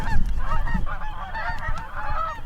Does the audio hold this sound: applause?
no